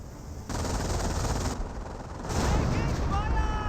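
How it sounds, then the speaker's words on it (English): Sustained bursts of M2 barrage fire in a Company of Heroes match, a dense rumbling volley that swells and continues for several seconds, loud and close, with faint high whistling near the end. "Can't really advance forward until the M2 barrage is done firing away"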